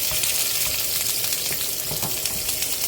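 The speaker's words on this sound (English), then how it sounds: "Give it a stir." Onions frying in hot olive oil in a pan while being stirred, a dense, steady close-up sizzle with faint scraping of the stirring underneath.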